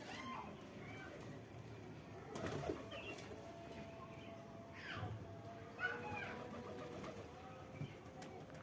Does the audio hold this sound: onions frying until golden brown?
no